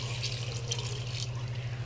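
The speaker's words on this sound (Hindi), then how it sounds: "और इसमें ये 1 ग्लास पानी।" A glass of water is poured into chickpeas in a cooking pot, making a steady, even splashing rush over a low hum and lasting the whole moment.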